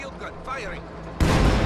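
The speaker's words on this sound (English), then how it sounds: "Field gun firing." A field gun fires in the video game Company of Heroes 2, a sudden loud blast that follows a short stretch of spoken voice.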